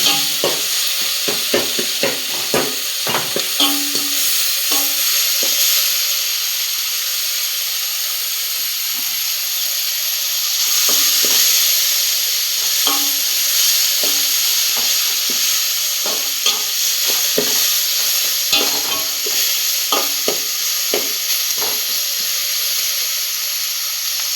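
Sautéing in a pan for a vegetable curry, a steady close sizzle broken by repeated scraping, clinks and knocks of a spoon against the pan, continuing for a long stretch without talking.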